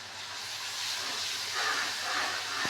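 Coriander, garlic and ginger paste hitting fried onions in a hot pan, a steady close hiss of sizzling throughout, no talking.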